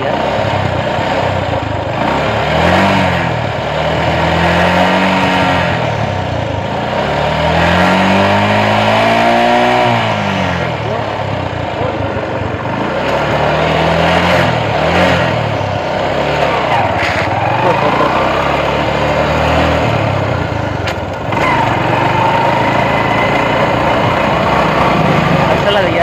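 An uncle's vehicle being driven, its engine loud and close throughout, with repeated swells as the revs climb and drop in uneven cycles.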